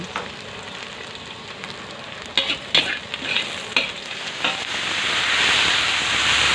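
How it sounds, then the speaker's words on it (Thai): Loud sizzling and crackling of garlic frying in hot oil in a hot pan, with a few sharp scraping stirs midway and the hiss building toward the end. "ตั้งกระทะร้อนแล้วเราก็จะใส่น้ำมันลงไปนะคะ เจียวกระเทียมให้หอม"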